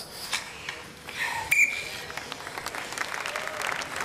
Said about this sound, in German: auch schon sehr, sehr verhaltener Applaus hier im Studio beim Publikum